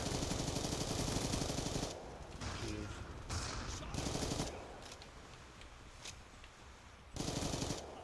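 MSMC submachine gun in Black Ops 2 firing in rapid automatic bursts, loud dense rattles separated by short pauses, with lighter game noise between volleys.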